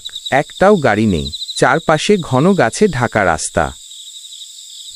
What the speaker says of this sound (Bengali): ঝিঝির ডাক